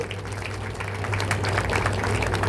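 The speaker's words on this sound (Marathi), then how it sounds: "इन साईड ट्वेंटी सिक्स ला जोरदार टाळ्या वाजला गेला पाहिजे" Steady crowd applause at an inauguration ceremony for a housing expo, a continuous wash of clapping that holds throughout and swells slightly toward the end, with a low hum beneath it.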